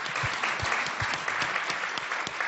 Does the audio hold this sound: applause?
yes